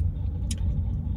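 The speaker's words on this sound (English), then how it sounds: "His truck is shaking my car. Isn't that weird? Ain't that a muffler problem?" A truck with a muffler problem idles beside a parked car, its deep steady rumble filling the low end throughout, loud and close, with a brief brighter hiss midway and no talking.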